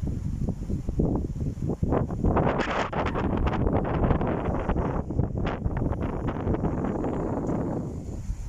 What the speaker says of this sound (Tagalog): Ang hangin, lakas ng hangin.